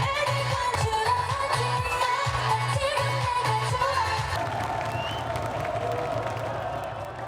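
A crowd at a live sports game cheers and applauds in a steady, dense roar, with rhythmic chant-like bursts in the first half that then settle into a broad, continuous wash of noise.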